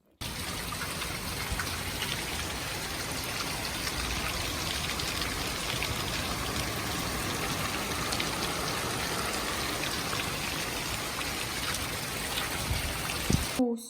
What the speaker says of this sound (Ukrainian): Дощик пройшов, он вже трохи розвиднілося